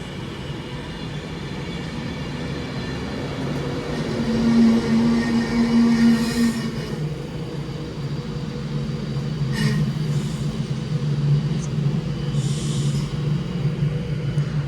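Avanti West Coast Class 390 electric train 390-126, bound for London Euston, running with a steady low rumble and rail hum that swells and eases, heard from on board with no voices.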